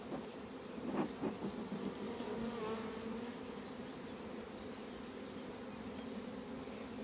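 A dense, continuous hum of many honeybees buzzing close by at a hive, steady throughout with no voices.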